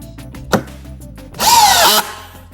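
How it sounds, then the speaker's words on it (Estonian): Cordless drill with 50–60 Nm of torque driving a thick screw into wood: a short knock, then a loud, close whirring drive of about half a second that cuts off sharply, with no talking. "50–60 Newtonmeetrit on täiesti piisav, et kruvida selliseid jämedaid kruvisid, näiteks puidu sisse,"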